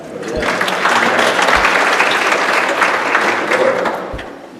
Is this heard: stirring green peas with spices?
no